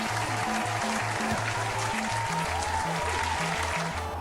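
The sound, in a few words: 8-bit crowd cheering in a boxing video game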